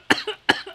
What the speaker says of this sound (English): You're still coughing it out.